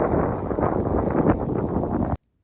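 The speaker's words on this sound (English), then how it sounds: "It's really windy up here." Loud, gusty wind buffets the microphone on a mountain ridge, a rough low roar with surging pulses that cuts off abruptly near the end.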